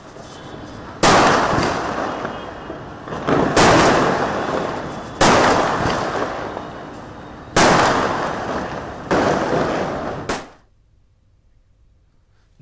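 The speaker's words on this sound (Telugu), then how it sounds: "మహిళలు దీపాలు వెలిగించడంతో పాటు ఆనందోత్సాహాలతో బాణసంచా కాల్చారు" Firecrackers bursting during Diwali celebrations across India, four loud cracking blasts at roughly even intervals, each followed by a fading crackle, then quiet.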